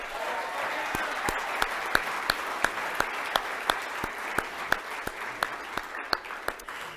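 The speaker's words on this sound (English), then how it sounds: "I just want to get a few more rounds of applause" An awards ceremony audience applauds a world champion, a soft wash of distant clapping with one nearby pair of hands striking crisp, regular claps through the whole stretch.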